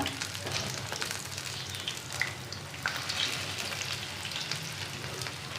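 Taro fritters fry in hot oil, a dense, even, close crackling sizzle that holds steady throughout with scattered brighter pops, no voices.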